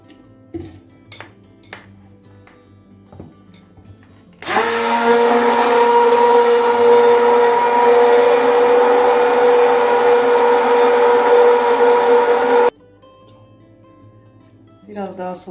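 An electric mixer whips cream with ice-cold water to churn homemade butter, a loud steady motorized whir running for about eight seconds between quieter stretches with faint clinks.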